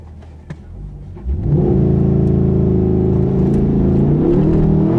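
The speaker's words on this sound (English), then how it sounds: "I'll show you how to launch a C8 Corvette" A C8 Corvette sits idling, then launch control fires it off hard, and the engine surges into a loud, sustained, rising roar that stays close and fills the rest of the moment.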